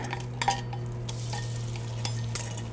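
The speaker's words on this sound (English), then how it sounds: "It's lightly sizzling." Gentle, steady frying hiss of beef in a metal pan for stir fry, with a low hum underneath and occasional soft clinks of utensils, no voices.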